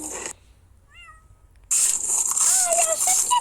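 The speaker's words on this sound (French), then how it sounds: "il y a un chat qui a crié" A small cat gives a short, high meow that stands out alone against quiet, followed by louder background noise.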